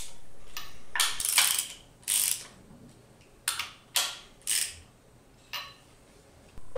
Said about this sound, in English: Use a ratchet with a 17mm socket and alternate between the 2 bolts to evenly lower the inner cover